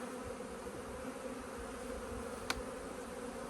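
Honeybees hum steadily around an open hive during an inspection, a constant mid-level drone with one brief sharp click near the end.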